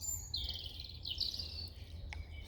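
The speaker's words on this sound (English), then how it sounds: "the birds are singing." Birds sing and chirp in a steady high warble beside a calm river on a warm, still, sunny day, clear and fairly close over quiet background hum.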